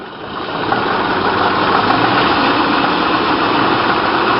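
A 1927 Packard 443 Club Coupe engine, cold, revs up from idle into a steady, loud, continuous roar that holds for several seconds with no voices.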